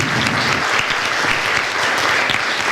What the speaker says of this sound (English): give a giganto round of applause to the Brown Hotel and the staff